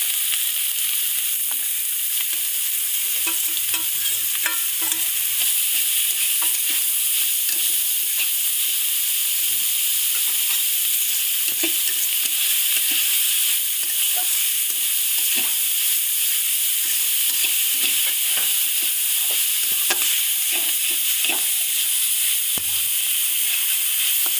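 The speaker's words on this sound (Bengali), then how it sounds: "এরপর আমি যে সবজিগুলো তুলে রেখেছিলাম পুরের জন্য সেইটা দেখো আমি দিয়ে দিচ্ছি এর মধ্যে" Vegetables for a momo filling stir-fry in a hot pan, a constant bright sizzle with occasional scraping and stirring clicks, close and continuous.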